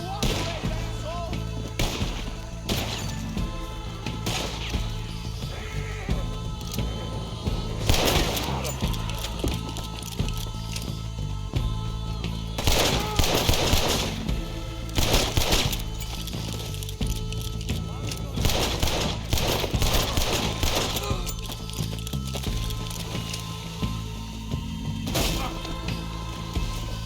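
Gunfire erupts in a Red Dead Redemption 2 shootout during the American Distillation mission, with repeated sharp cracks and splintering impacts scattered through the clip. Loud shouted talk runs over the shots.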